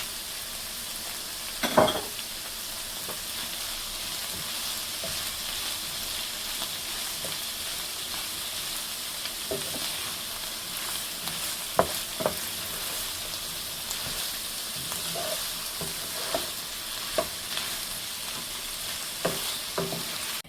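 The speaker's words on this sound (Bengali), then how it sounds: "এখানে এখন আমি মাশরুম দিয়ে দেবো, কিছু মাশরুম রাখছে, এটা দিয়ে দেবো আমি।" Mushrooms stir-fry in a pan for fried rice, a constant close sizzle broken by scattered scrapes and knocks of a spatula against the pan, with no talking.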